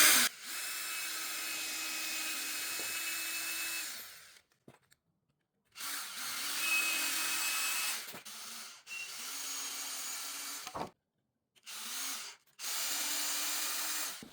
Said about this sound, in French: On met les petites vis qui vont bien.